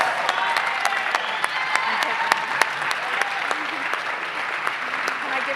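A gala audience breaks into loud, sustained applause, with dense clapping close and steady throughout and occasional sharp individual claps standing out.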